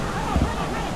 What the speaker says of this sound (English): there's also a waterfall.